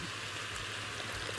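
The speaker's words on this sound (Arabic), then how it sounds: "ومعاها شويه عصير طماطم مش كتير، كوبايه مثلا" Tomato juice poured from a cup into a pot of ground-meat tomato stew, a continuous steady watery pouring rush, close and fairly loud with no talking.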